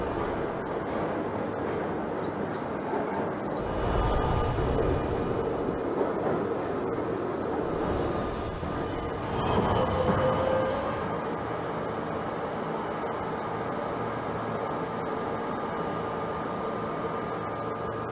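NYCT J subway train running on a simulated Myrtle viaduct route in Trainz Simulator 2012, a steady broadband rumble and hiss of wheels and motors throughout, with slight swells but no clear horns or announcements.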